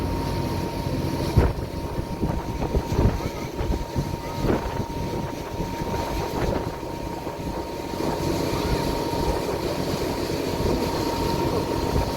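A ferry passing on Sydney Harbour gives a steady, fairly loud low engine rumble and churn of water, joined by a faint hum and a few soft knocks.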